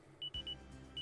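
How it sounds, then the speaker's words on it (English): A phone alarm in the visual novel Kakenuke Seishun Sparking sounds as a few short, bright electronic beeps, repeated in quick bursts over a low steady hum. "Woke up to the sound of my phone's alarm."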